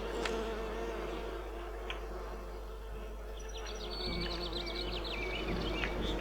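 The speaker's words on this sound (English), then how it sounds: "Good God, that's a lot of bees." A dense swarm of bees in the Skyrim mod Enderal drones steadily and continuously, a low thick buzz with faint higher chirps and bird-like calls layered above, fairly quiet throughout.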